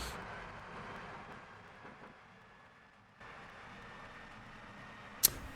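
A London Underground S Stock train in the Metro Simulator game rumbles steadily along the Rijndam line, a continuous low rolling hum that dips briefly and ends with a sharp click.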